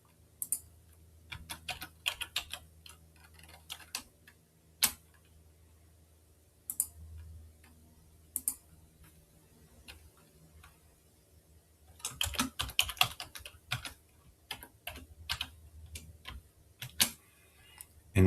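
Someone types login details on a computer keyboard in a quiet room: soft, close key clicks come in uneven bursts with short pauses, then a denser flurry of typing.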